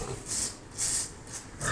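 Piglets squeal and grunt in short high-pitched bursts under a heat lamp in a barn, three or four times with brief pauses, fairly close against a low background hum.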